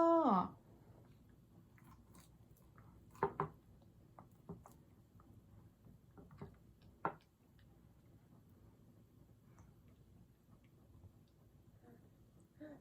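A 9-month-old baby chews homemade banana bread with soft, intermittent smacking and mouth sounds, punctuated by a few sharper clicks, while an adult coos playfully nearby at the start.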